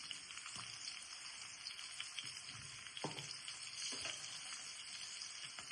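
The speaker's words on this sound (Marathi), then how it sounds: "लसूण आणि हिरवी मिरची चांगली फ्राय करून घ्यायची" Garlic and green chillies frying in oil in a pan give a soft, even sizzle throughout, with a few faint stirring scrapes and no voices.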